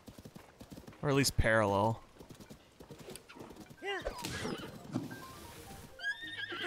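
Horse hooves clip-clopping with a loud, close whinny in Tears of the Kingdom, followed by more neighing and snorting as the gallop continues, while someone talks over the game sounds.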